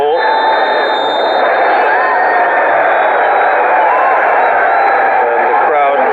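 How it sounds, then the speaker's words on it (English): Crowd noise at a Bangladesh vs Sri Lanka football match, a loud, continuous wash of stadium roar and cheering throughout with a commentator-style voice mixed in. "And the crowd very happy with what they've seen so far."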